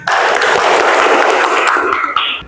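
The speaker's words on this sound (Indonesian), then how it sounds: "Oke, tepuk tangan." Applause from a classroom group during a history lesson, a loud, dense burst of clapping that carries on steadily before tapering off near the end.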